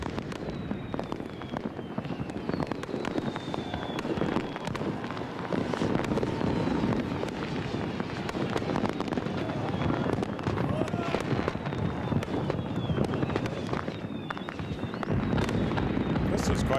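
A New Year fireworks display over Reykjavik, Iceland, marking the 1999 turn of the millennium, crackles and booms in a dense, continuous barrage, loud and unbroken from start to finish with overlapping bursts.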